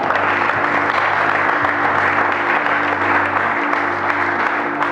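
A church congregation applauds continuously for several seconds, a dense, loud, even wash of clapping from many people with a faint hum underneath and no speech.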